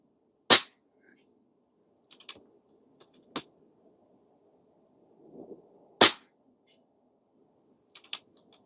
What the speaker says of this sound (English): so that should have been 20 shots